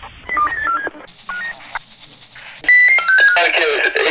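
An outgoing telephone call plays dialing tones and then a ringback tone over a police radio channel, the beeps clear and loud with short gaps between them.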